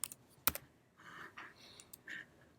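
A computer keyboard is typed on in a few scattered, close clicks, including one sharp loud key strike, with quiet gaps between.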